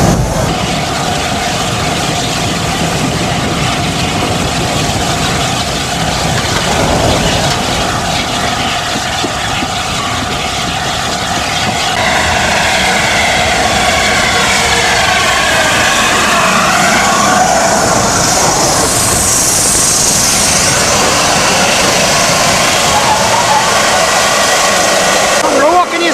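Steam locomotive running as a light engine on the Llangollen Railway in 1993, a loud steady mechanical roar with hissing steam rising toward the end, continuous throughout with no clear pauses.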